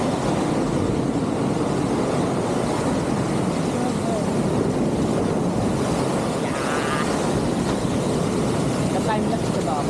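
Large sea waves surge and break on a shore at Dingalan, a loud, continuous wash of surf with gusty wind across the microphone and faint voices beneath.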